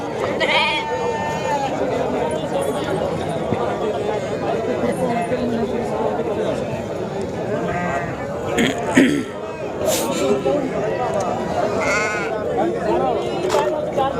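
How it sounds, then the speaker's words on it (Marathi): Sheep bleat repeatedly amid a busy crowd at a goat and sheep market in Sangola, voices chattering throughout; several animals call out near and far in a noisy, continuous market din. "डबल पिल्लेवाले दोन दोन पिल्ले मेंढे मेंढ्या आहेत"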